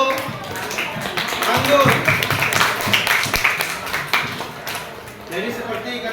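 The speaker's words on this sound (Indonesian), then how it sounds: "kita berikan aplaus untuk" A classroom audience claps for a student presenter, a dense patter of applause running steadily throughout, with a voice speaking briefly over it.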